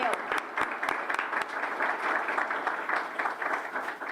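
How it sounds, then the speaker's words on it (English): Applause at an award nominations event, a steady patter of many hands clapping at moderate distance, lasting throughout with some voice mixed in. "Round of applause."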